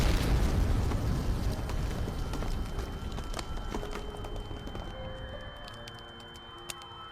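A deep, heavy explosion rumble bursts out loud at the start and slowly fades over several seconds, with scattered crackles and debris pops, a dramatic sound effect for a dark romance fanfic reading set in Genshin Impact.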